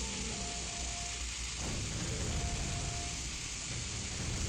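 Electric lightning trap in the game Quake crackling and buzzing steadily, a dense, continuous hiss with low rumble underneath, held at even loudness throughout without any talk.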